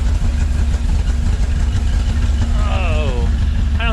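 An old Ford grain truck engine idles after a cold start, a loud, steady low rumble close to the exhaust, with a voice or whistling tone briefly rising over it near the end.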